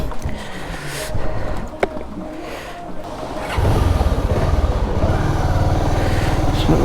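After refuelling, a motorcycle sets off on a rainy ride from Kushtia toward Dhaka with a few scattered knocks and clatters, then its engine surges up and holds a loud, steady, buzzing drone.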